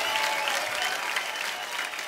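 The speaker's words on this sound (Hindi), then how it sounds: "जोरदार हो जाए तालियां एक बार यार।" An audience on a televised Indian comedy show claps loudly and continuously for the full length, a dense, even wash of applause.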